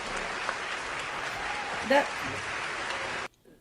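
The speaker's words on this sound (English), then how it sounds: "That's the sound of us clapping." An audience claps steadily through a jazz and conversation broadcast, a dense patter of applause with a brief voice near the middle, then cutting off abruptly.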